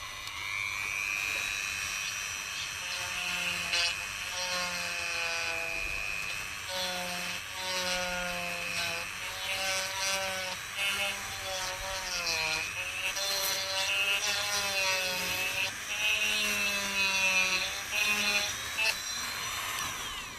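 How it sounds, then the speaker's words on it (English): A Dremel rotary tool grinds out the plastic spring stands inside a Nerf Fortnite AR blaster, a whining high-speed buzz that rises and falls in repeated short bursts as it bites into the plastic, close and fairly loud. "I'm going to try to Dremel out the spring stands for the AR."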